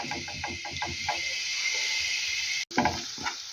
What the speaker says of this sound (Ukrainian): цибуля просмажилася трошечки